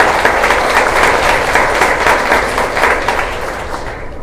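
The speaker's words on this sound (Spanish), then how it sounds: "Un aplauso." Audience applause at a Mexican state forum on migrant law reform, a loud, dense, sustained round of clapping that holds steady for several seconds and eases slightly at the end.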